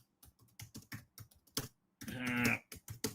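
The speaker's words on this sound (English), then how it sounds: "it's so hard to type without saying what I'm typing" Fingers type on a computer keyboard in quick, irregular bursts of clicky keystrokes, close and fairly quiet, with a brief denser flurry partway through and no talking.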